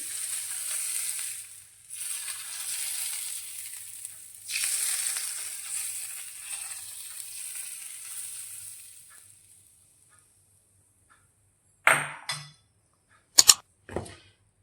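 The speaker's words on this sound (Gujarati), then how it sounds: "પહેલાં વઘારને આપણે આ રીતે ઢોકળા ઉપર રેડી લઈશું" A loud burst of sizzling as hot tempering oil is poured onto green pea dhokla, then quieter crackles fading out, followed by a few brief clattering knocks near the end.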